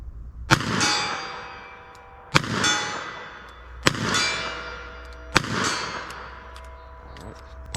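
A revolver loaded from a moon clip with +P Gold Dot rounds is fired at steel targets 40 yards away. Four loud, evenly spaced shots each ring out with a long metallic clang that fades before the next.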